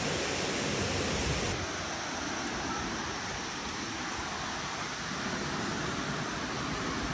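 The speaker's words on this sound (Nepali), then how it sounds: "यता अगाडि झर्ना" A waterfall on a hiking trail rushes continuously, a loud, steady broadband roar of falling water close by with no voices.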